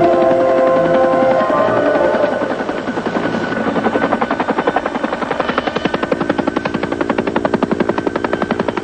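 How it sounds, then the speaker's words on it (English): A Hughes 500 turbine helicopter, its engine whine giving way to a steady, rapid rotor chop that grows louder and more pronounced, rhythmic thumping close by and alone. "Hughes 500 turbine power chop."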